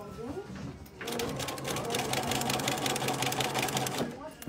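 A sewing machine stitches the seam of a fabric pencil case, its fast needle clatter running steadily for about three seconds after a brief pause, close and loud, with a voice talking faintly before it starts.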